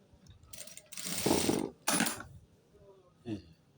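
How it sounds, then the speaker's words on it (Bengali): A sewing machine stitches fabric in a couple of short close runs of rapid whirring, with clicks between them and a voice speaking faintly at times. "আবার এই মাথাও একটা সেলাই করে নেবেন, যেন এই গ্যাপগুলো যেন সোজা হয়"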